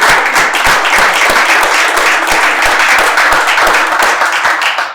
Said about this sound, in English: Could we get a round of applause for Kyle?